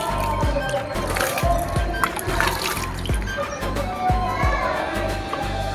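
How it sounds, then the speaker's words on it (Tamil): Water splashes and trickles onto young potted plants in a run of repeated pours, close and fairly loud, with a faint voice now and then. "கைஸ் தண்ணி எடுத்தாச்சு, செடிகளுக்கு அப்படியே ஊற்ற வேண்டியதான்."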